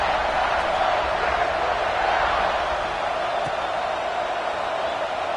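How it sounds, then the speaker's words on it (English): Stadium crowd at an LSU college football game, a steady distant murmur and buzz of thousands of fans, even and continuous with no distinct cheers standing out. "this crowd is buzzing after that last score"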